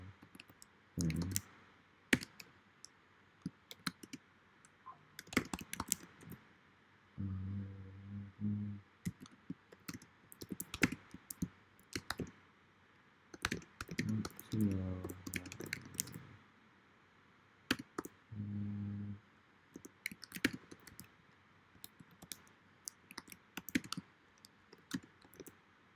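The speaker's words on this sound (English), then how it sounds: "I know I'm typing slow as hell" Typing on a computer keyboard, with irregular bursts of close, crisp key clicks and pauses between them, plus a few low tonal hums in the background.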